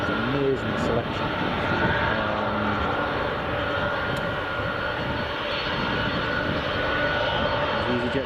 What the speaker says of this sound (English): EasyJet just taxiing.